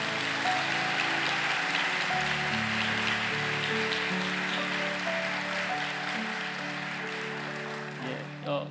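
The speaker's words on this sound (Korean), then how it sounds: "우리와 같은 박수로 한번 환영해 주십시오" A congregation applauds to welcome speakers at a Korean church's forty-day revival prayer service, a steady wash of clapping that carries on throughout, layered over sustained organ-like music tones.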